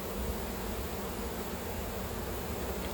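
Honeybees buzz around an open hive during a late-summer honey harvest and queen check, a dense, steady insect drone filling the air close by without pause and with no talking.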